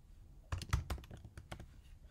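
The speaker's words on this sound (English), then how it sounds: "start typing in Container." Quick bursts of keystrokes on a computer keyboard, a short cluster of clacks followed by a few lighter taps, close and fairly quiet with no talking.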